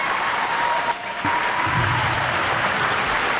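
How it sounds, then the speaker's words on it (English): Crowd at a live independent wrestling show applauds in steady sustained clapping that fills the whole stretch, dense and fairly close, with a faint voice briefly underneath. "And another round of applause."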